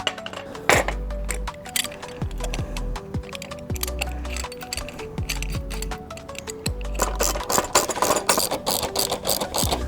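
Shock spring being compressed on a Surron Ultra Bee electric dirt bike, heard as a steady run of ratcheting clicks and metallic mechanism ticks, with sharp clanks and rising broadband rattling toward the end, close and moderately loud with no talking.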